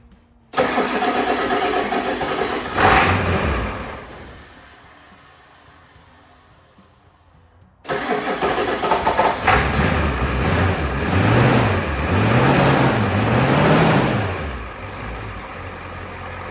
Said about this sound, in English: It's immediately revving up way better